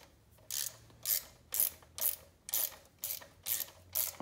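A hand ratchet snugs bolts up against a 4.8/5.3 engine block in eight evenly spaced bursts of rapid clicking, close and fairly loud, with quiet gaps between strokes.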